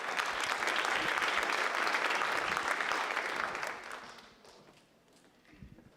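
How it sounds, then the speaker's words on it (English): Audience applause for a speaker at a tech talk, a loud sustained burst of clapping from a crowd that fades out after about four seconds, leaving faint room noise and a few stray claps. "So let's hear it for Tim."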